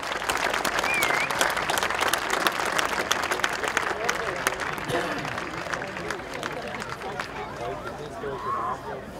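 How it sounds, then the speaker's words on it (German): An outdoor audience applauds after a police dog demonstration, a sustained crowd of clapping hands with voices and chatter mixed in, fading slightly toward the end. "Und das ist ein grosser Applaus wert"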